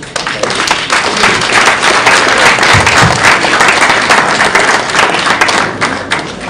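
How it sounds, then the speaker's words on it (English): Dense applause from a conference audience, loud and sustained clapping from many hands that swells and continues steadily throughout. "Another round of applause for Mr. Ola."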